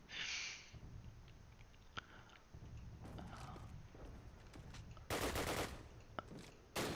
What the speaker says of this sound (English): Krippie kills the sniper, Jani.